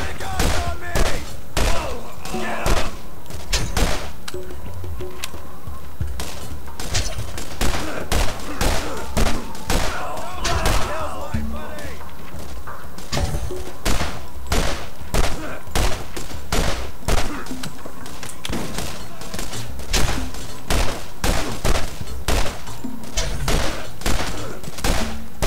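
Pistol gunfire in the video game Borderlands: dense, repeated sharp shots with heavy thumps run through the whole stretch, loud and steady, with many bursts close together and no talk over them.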